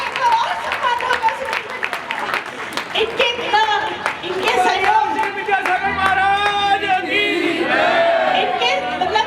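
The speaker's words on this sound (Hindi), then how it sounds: "जोरदार ताली बजाइए सब लोग" Audience applause at a Jain temple gathering for Ashtahnika in Rae Bareli: steady clapping from a crowd, with someone talking loudly over it throughout.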